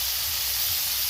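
Potatoes sizzle in hot oil in a pan while a duck curry is being cooked, giving a steady, close hiss with no voices.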